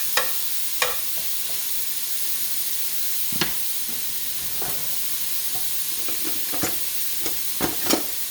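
Breakfast sausage sizzling steadily in a pan for gravy while a masher breaks it into chunks, a constant frying hiss broken by scattered scraping and tapping knocks against the pan, no talking.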